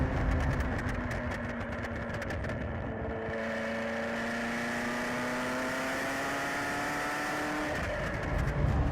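A Ferrari F40 held in third gear, its engine note rising smoothly and steadily with a strong tonal whine, heard from inside the car throughout without speech.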